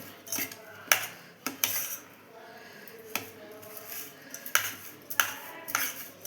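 Crushed peanuts are stirred into a soaked sago (sabudana) vada mixture in a bowl, giving irregular close clicks and taps of a utensil against the dish with soft mushy scraping between.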